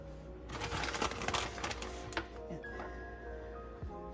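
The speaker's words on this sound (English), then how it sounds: "I'm gonna put a piece of foil on top" Aluminum foil being handled and laid over a dish of au gratin potatoes, crinkly rustling bursts up close followed by quieter kitchen sounds.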